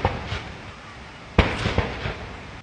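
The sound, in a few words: 21-gun cannon salute at state welcome ceremony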